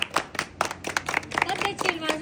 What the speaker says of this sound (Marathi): टाळ्या वाजून स्वागत करा